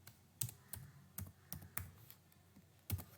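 Typing on a computer keyboard while coding a web page, with sharp, irregular keystroke clicks close to the microphone, quiet and without talk.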